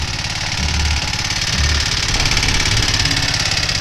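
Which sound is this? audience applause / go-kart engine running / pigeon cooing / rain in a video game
go-kart engine running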